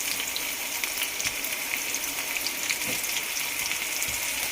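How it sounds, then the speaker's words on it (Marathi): Onion tipped into hot oil with cumin seeds for kanda poha, a steady broadband sizzle and crackle holding level throughout, close and alone with no talk. "जिरे टाकल्यानंतर त्याच्यामध्ये कांदा टाकून द्यायचा."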